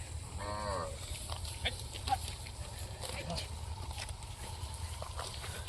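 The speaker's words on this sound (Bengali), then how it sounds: "তো আমরা আপনাদেরকে দেখানোর চেষ্টা করলাম পদ্মা নদীর চরের গরুগুলা" A single loud moo from cattle rises near the start on a Padma river char near the India–Bangladesh border, then fades into open outdoor ambience with faint background murmur.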